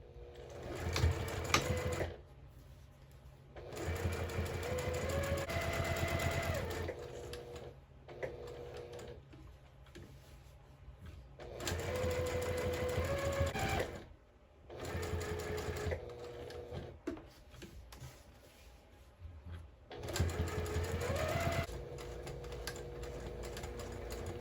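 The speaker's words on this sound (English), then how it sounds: "now we're just gonna go ahead and top stitch all the way around right on the edge of this seam here at an 1/8 inch seam allowance" Sewing machine top-stitching along the edge of a fabric napkin with an 1/8 inch seam allowance, running in four steady whirring bursts separated by short pauses, close and clear with no talking.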